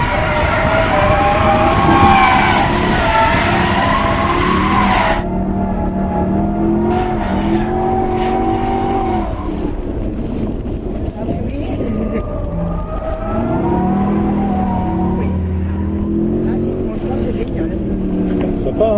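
Mercedes-Benz car driven on the Lohéac circuit under braking, engine droning loudly with a shifting tone as the car slides, a close, continuous roar that drops in pitch midway, with an occasional voice in the cabin.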